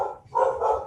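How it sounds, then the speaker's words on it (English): A dog barks twice close by, two short mid-pitched woofs with a brief gap between them, no talking over it. "sorry, that's my dog."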